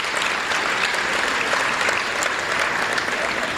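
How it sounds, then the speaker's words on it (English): A crowd at the Tri Cities Chamber awards in Port Moody applauds its governors with dense, sustained clapping that stays even and fairly loud from start to finish. "Big round of applause for our governors."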